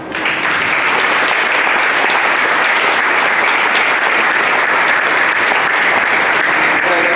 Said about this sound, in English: So I'd like to give a round of applause to our firefighters first.